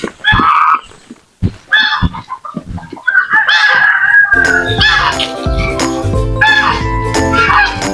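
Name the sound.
goose honking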